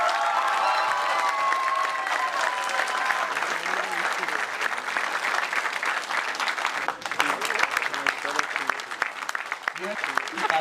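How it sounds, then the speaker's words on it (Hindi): Theatre audience applauds steadily throughout as the director of a stage production of Premchand's Godaan comes on stage, dense clapping with a brief dip midway, voices faintly under it. "तालियों की गड़गड़ाहट ये बता रही हो शानदार पेशकश।"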